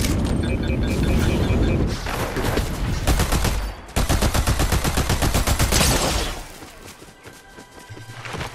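Rapid gunfire in Fortnite rings out in close, dense bursts with booming impacts, then continues more sparsely toward the end.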